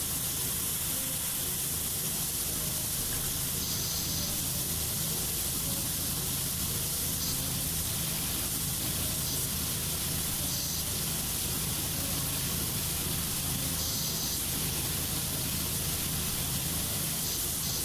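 Steady broadband hiss of a pressure washer spraying a window side in PowerWash Simulator 2 on a volcano ski resort, continuous and loud with no talk over it.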